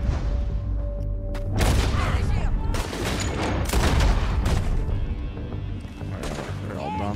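Sharp gunshots and bursts of fire in the Red Dead Redemption 2 video game, several loud cracks spread across the stretch with a player commenting over the top.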